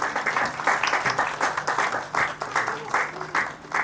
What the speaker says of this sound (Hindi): जोरदार तालियों से स्वागत उनका।